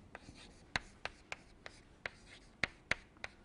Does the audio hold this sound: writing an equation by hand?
yes